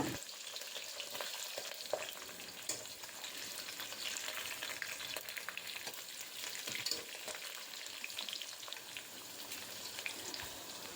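Steady crackling and spitting of mustard seeds popping in hot oil, a dense close sizzle with small bursts throughout and no voices.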